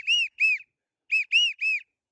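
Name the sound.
whistle blown hard imitating a widgeon duck call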